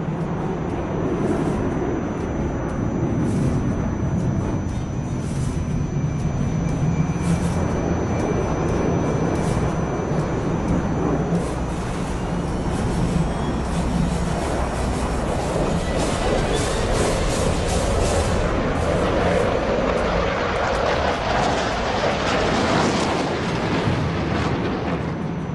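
Dassault Rafale fighter jet performing a flying display at the Dubai Air Show, a loud continuous engine roar and rumble that swells and fades as the aircraft passes, steady throughout with no talk.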